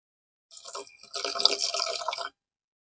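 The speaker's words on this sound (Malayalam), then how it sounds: "ഇത് കുറച്ച് വെള്ളം ഒഴിക്കണം" Water pours into a pan in a brief, close splashing stream that starts lightly, swells louder, then stops abruptly.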